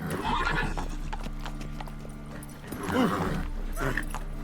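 A horse in the Witcher 3 video game trots with steady clip-clopping hooves and lets out a loud whinny partway through, close up and continuous over the game's ambient sound.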